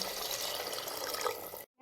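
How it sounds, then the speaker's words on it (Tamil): Water pours into a cooking pot in a steady rushing stream for a couple of seconds, then stops abruptly, followed by a faint clink. "தேவையான அளவு தண்ணி சேர்த்துடுங்க ரைஸுக்கு தேவையான அளவு"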